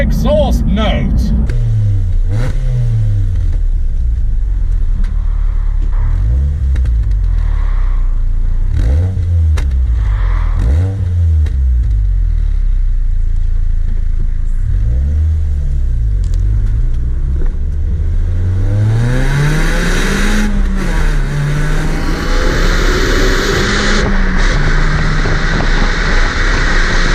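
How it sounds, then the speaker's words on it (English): Ford ST hatchback with a 2-litre Duratec engine, its exhaust note rising and falling through repeated revs, loud and close, with someone talking over it. "Exhaust note is really good."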